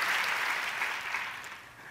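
A church audience gives loud, sustained applause for the boys, a thick wash of clapping that slowly fades toward the end.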